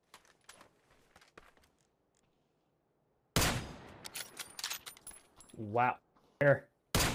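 Bursts of rapid gunfire in the battle royale shooter PUBG, with sharp repeated cracks after a quiet stretch, close and loud, alongside brief spoken exclamations.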